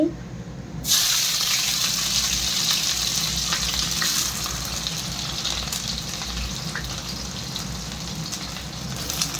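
Onions and whole spices frying in hot oil in a kadai, a sudden loud sizzle bursting in after a brief quiet start and then crackling steadily, with faint occasional utensil knocks.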